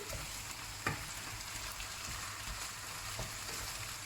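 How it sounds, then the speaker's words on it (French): Pork pieces frying in a caramel glaze with soy sauce over medium heat, stirred in the pan, with a steady close sizzle and a couple of sharp utensil scrapes and clicks. "Vous mettez votre feu et vous mélangez le tout. Donc ça à feu moyen."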